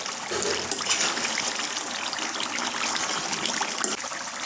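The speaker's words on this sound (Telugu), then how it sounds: "దాన్ని మళ్ళీ మనం మూత పెట్టుకొని తీస్తూ ఉన్నప్పుడు ఇలా ఉడుకుతూ ఉంటుందండి" Chicken fry cooking in a covered pan on the stove, its watery juices simmering and bubbling with a steady, close hiss and fine crackle throughout, no voices.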